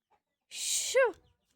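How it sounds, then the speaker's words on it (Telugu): A chicken lets out a single quick, quiet cluck just after a short rustling hiss, with silence around it. "లేకుంటే కోళ్ళు అంగడి వేస్తాయి."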